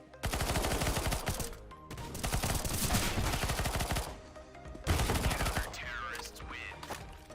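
A PP-Bizon submachine gun in Counter-Strike: Global Offensive fires long sustained bursts, rapid loud rattling shots in several stretches separated by short pauses, with faint game ambience between.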